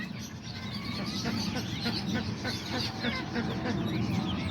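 Chickens, roosters and hens, including Azteca and Serama breeds, clucking and chirping in a busy backyard coop, with a person talking steadily over the birds.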